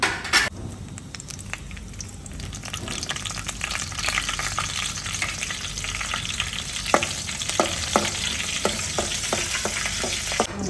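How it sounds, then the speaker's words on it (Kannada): Mustard seeds and curry leaves fry in hot oil with a loud, dense, steady sizzle and crackle, punctuated by small pops and a few stirring clicks, close up and without talk. "ಸಾಸಿವೆ ಹಾಕ್ಬೇಕ್ರಿ ಓಕೆ ಕರಿಬೇವು ಹಾಕ್ಬೇಕ್ರಿ"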